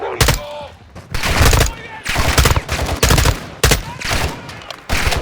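Loud bursts of automatic gunfire in Call of Duty Modern Warfare 2, several rapid volleys in quick succession with short gaps, close and dominant, with a voice shouting briefly between shots.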